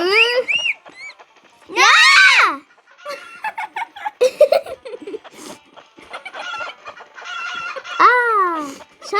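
Chickens in a video game, Stickman Party, cluck and squawk in shrill bursts, mixed with brief laughter and high-pitched vocal sounds.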